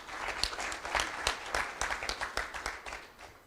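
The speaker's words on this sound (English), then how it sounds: "Another round of applause, please." A seated audience at a development partners round table applauding, giving a fairly faint, steady patter of many hands clapping that fades slightly toward the end.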